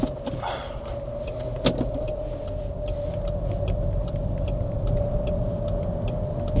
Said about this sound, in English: Oh, I cannot rev this thing high at all.